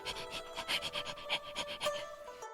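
A voice imitates a small creature panting, rapid rhythmic breathy huffs about a dozen in quick succession, close and fairly soft.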